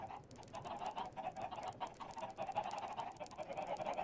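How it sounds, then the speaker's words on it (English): Chickens in the blocky sandbox game Minecraft, soft repeated clucks and short squawks overlapping at low volume in a steady, busy stream with no talking. "And then there's all the chickens over here."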